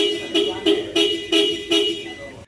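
A Toyota Fortuner car horn honks in five short, loud bursts at a steady rhythm while the horn circuit is bypassed during a fault test, with the engine idling faintly underneath.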